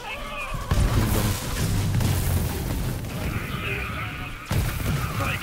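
Gunfire aimed at the Burgerbot in Borderlands 3, a dense run of booming shots that starts abruptly, holds steadily loud, pauses briefly and then resumes.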